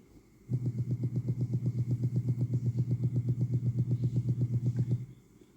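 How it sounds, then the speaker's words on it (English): Bass line from the end of the first drop of a remix: a steady run of pulsing low notes, loud and even, playing alone without voices before cutting off abruptly. "So this is a bit of bass that comes at the end of the first drop."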